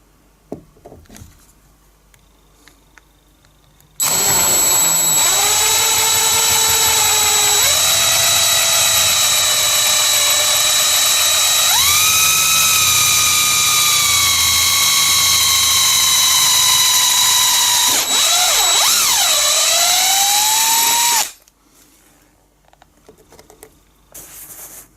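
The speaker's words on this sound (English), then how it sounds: "We're going to drill the hole ." A power drill fitted with a 10mm bit bores a hole for a dowel into a loose screw hole, running as a loud, steady whine for about seventeen seconds. Its pitch rises and dips as the speed changes, then stops abruptly.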